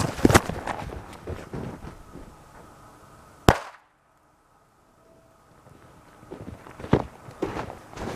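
A regular red firecracker bursts inside an egg with a single sharp, loud bang midway, set among outdoor rustling, wind and footsteps, followed by a brief stretch of near silence before the handling noises return.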